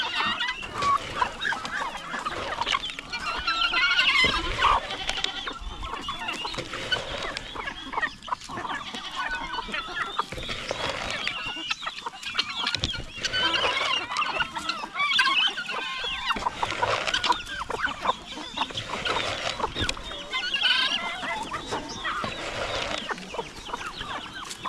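Chickens cluck and squawk continuously in a busy farmyard, with a few louder honking turkey calls mixed in among the flock.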